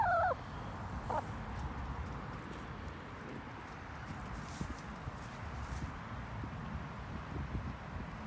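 Chickens peck around in a square bale of grass, making soft, contented clucking and low murmuring sounds. The birds are faint and somewhat distant, with light rustling and scratching throughout and a brief higher call at the start.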